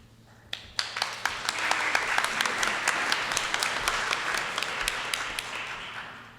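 Studio audience applause on a 1945 Hollywood radio broadcast of the Queen for a Day program, led by the show's Foley artist. Dense clapping swells in quickly and holds steady for several seconds, with a few sharp individual claps on top.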